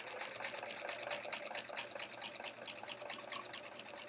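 A domestic sewing machine stitches slowly through quilt fabric with metallic thread, a quiet, steady run of rapid needle clicks at an even, unhurried pace.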